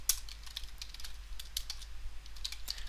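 Python code is typed on a computer keyboard, a quiet irregular run of close key clicks with small pauses between bursts and no voices.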